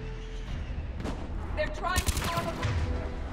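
Turret gunfire in the Mass Effect 3 video game on PC, a quick burst of rapid shots with crackling impacts in the middle of the clip over a steady background drone of game ambience.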